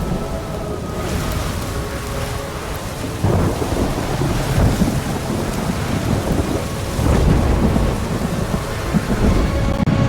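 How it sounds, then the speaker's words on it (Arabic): Thunderstorm in the video game Ori and the Will of the Wisps: a steady wash of heavy rain with deep rolling thunder swelling twice, loud and continuous, with a faint game music tone underneath. "ده رعد وبرق"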